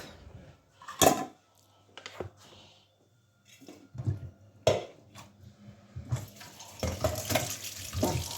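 Tap water splashes over raw chicken in a kitchen sink in uneven bursts, with louder gushes and clattering between quieter gaps. It is close and moderately loud, and no one speaks.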